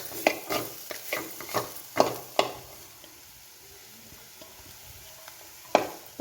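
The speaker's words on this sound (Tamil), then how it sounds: "இப்போ இந்த உருளைக்கிழங்கு இதெல்லாம் நல்லா ஒன்றா வேக வச்சு நல்லா வதக்கி விட்டுருவோம்" Boiled mashed potatoes for samosa filling are stirred and sautéed in a pan: a quick run of spoon clinks and scrapes against the pan, then a softer low sizzle with one more clink near the end.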